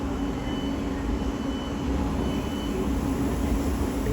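A Thameslink Class 700 unit, 700 045, pulls into a London terminus on the Sutton to St Albans City service, giving off a steady, broad, low rumble that holds at an even level from start to finish.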